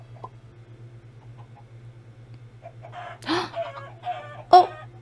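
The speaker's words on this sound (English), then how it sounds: "I wonder if the chicken noises in Minecraft are actual chickens, or if it's like a machine, or if it's somebody imitating a chicken." Chickens in the Minecraft video game on Xbox 360 cluck over a low steady hum: a couple of faint early chirps, then a louder burst of clucking and a sharp squawk near the end.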